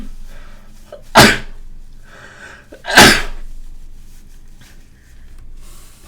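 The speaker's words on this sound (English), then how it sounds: "I don't remember the key to pause while I sneeze" Two loud, close sneezes, roughly two seconds apart, burst out over quiet room noise during a game-programming session in Corona SDK.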